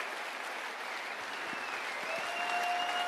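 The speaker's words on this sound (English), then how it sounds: "get a well-deserved round of applause" Applause from a live convention audience for the camera and live stream crew swells steadily and fills the hall for a few seconds, dense and continuous without talk over it.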